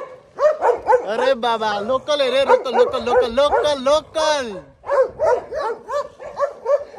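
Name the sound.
street dog barking in Oradea, Romania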